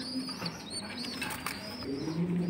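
A pair of racer or high-flying giribaz pigeons coo softly up close, with low throaty repeated calls and a brief flutter of wings in a quiet setting.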